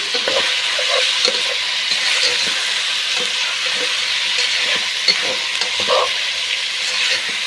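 Chicken for biryani being mixed with rock salt and turmeric in a hot vessel, giving a continuous even sizzle with faint stirring scrapes and occasional small clinks, steady and close.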